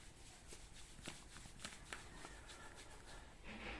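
Fast, brisk rubbing of hands over the shoulders and neck-collar area during a manual massage gives a soft, steady rustle with light slaps and brushes, faint and close.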